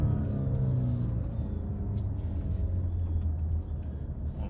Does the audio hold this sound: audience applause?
no